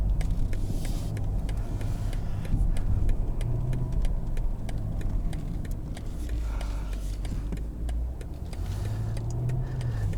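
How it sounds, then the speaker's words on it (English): A 2021 BMW 750i M Sport in sport mode gives a steady, loud engine drone from inside the cabin while accelerating, with the pitch climbing and dropping across gear changes and light ticking noises over it. "I'm gonna put it into sport here."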